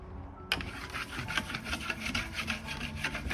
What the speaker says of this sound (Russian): И полируем до зеркального блеска.